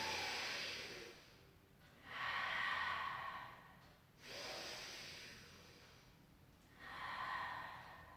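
Slow, deep breaths during a Pilates exercise, airy inhales and exhales alternating in long smooth swells, close and steady, with no talking.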